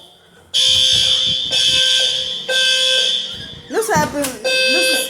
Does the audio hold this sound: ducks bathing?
no